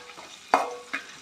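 Onions and grated garlic frying in oil give a low steady sizzle, punctuated by two quick scraping stirs of a spatula in the pan, close and clear with no talking.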